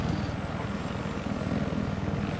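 A helicopter in the video game Battlefield 4 gives off a steady rhythmic rotor thump and engine drone, constant and moderately loud throughout.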